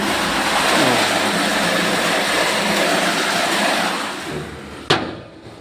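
A water pump motor running with a loud, steady droning hum that eases off near the end before a sharp knock.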